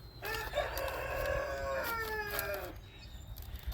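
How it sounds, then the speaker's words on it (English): A backyard flock of chickens and roosters: one rooster crows a long drawn-out call at moderate distance, with faint clucking and bird chirps around it. "So you're going to hear lots of egg songs, lots of roosters crowing, lots of bird chirping"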